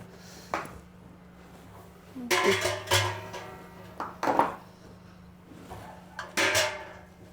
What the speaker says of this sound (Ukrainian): І тепер загружаю баночки в автоклав.